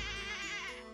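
A goat bleats in Professor Layton vs. Phoenix Wright: Ace Attorney, one wavering, nasal, sustained cry with a quivering vibrato, fairly faint and heard alone.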